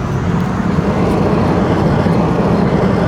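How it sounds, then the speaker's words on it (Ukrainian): Steady broadband road and wind roar inside a BMW 328 F30 cruising at 100 km/h, heard from the cabin; a constant low rumble with airy hiss on top, loud and unbroken with no talk. "Ми їдемо 100 км за годину і шумоізоляція тут просто відсутня."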